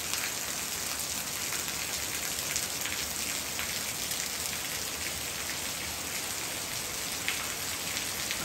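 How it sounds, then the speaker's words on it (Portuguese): Heavy rain pours down in the mountains over a rural farm garden, a dense, steady, close hiss of drops that stays constant throughout with no voices. "Olha, agora despencou a chuva mesmo aqui na montanha."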